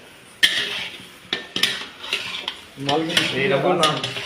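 Chicken kosha being stirred in a pan: sharp scattered clinks of a spoon against metal, then a denser run of scraping and sizzling near the end, close and fairly loud.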